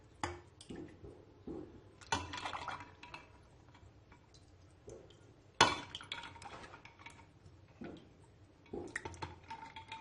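Ice cubes clink and clatter into a jug of water while tamarind and plum sharbat is prepared, a handful of sharp, close knocks spaced over several seconds with quiet gaps and no talk.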